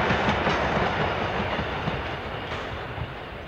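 A train passes along a lonely moorland railway line at night: a loud, steady rolling rumble with a rhythmic clickety-clack of wheels on the rails, easing off slightly toward the end.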